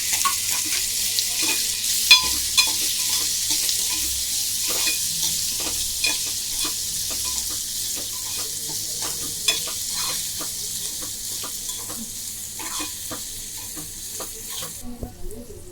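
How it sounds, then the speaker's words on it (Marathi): Chopped onion sautéing over low heat in a pan after asafoetida goes in, for a Maharashtrian vaal (field bean) usal lentil curry: a steady close sizzle with frequent scraping stir strokes, no voices. "आपण कापून ठेवलेला कांदा जो आहे तो टाकायचा आणि कांदा चांगला परतून घ्यायचा"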